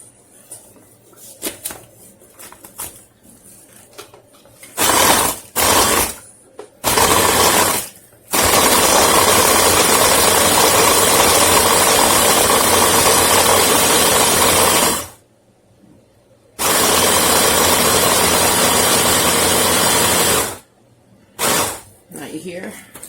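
A Braun MultiQuick 5 immersion hand blender grinds cashews into a powdery crust mix, its loud motor whirring in long sustained bursts with short starts and stops between them.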